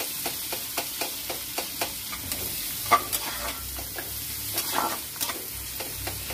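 Onions sliced into long strips are stirred in a frying pan, with regular spatula strokes tapping and scraping about twice a second over a steady sizzle.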